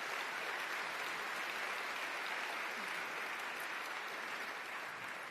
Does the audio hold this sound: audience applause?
yes